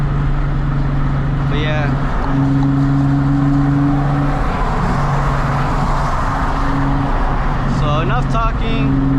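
Car driving along with a loud, steady engine drone holding level tones throughout, occasional revving swells and tire-road rumble, and a voice speaking briefly over it.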